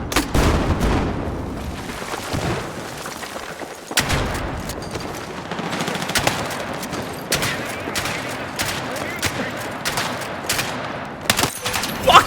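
Shotgun blasts and other gunfire in Battlefield 6 ring out loud and close, with repeated booming shots and scattered bursts over continuous battle noise.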